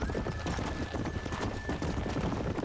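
Horses trot in the Red Dead Redemption video game, with dense hoof clatter running steadily under a constant wash of outdoor background noise and a faint high whine, moderately loud throughout.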